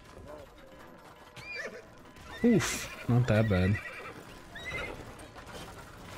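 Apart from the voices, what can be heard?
horse neighing in a video game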